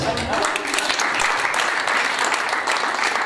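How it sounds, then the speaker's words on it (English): Steady applause from a conference audience fills the hall at the closing session of a mathematics lecture, dense and continuous clapping at close range with no break throughout. "it's good that you're all clapping"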